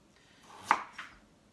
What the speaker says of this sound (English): this is the last potato I'm chopping up